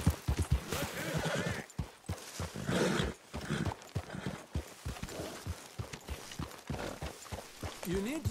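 Horse hooves clip-clopping at a steady walking rhythm in Red Dead Redemption 2, close and prominent, with speaking voices over the hoofbeats.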